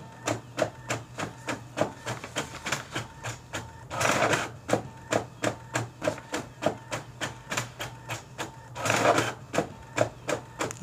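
A Brother MFC-T920DW inkjet printer churns out copies with a steady, rapid mechanical clicking and whirring rhythm, broken twice by a louder burst of feeding or paper-handling noise, close and clear with no talking.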